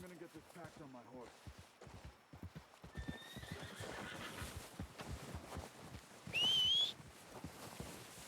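Horse in the video game Red Dead Redemption II, steady clip-clop of hooves close by with a neigh and a whistle, while people talk over the walking hoofbeats.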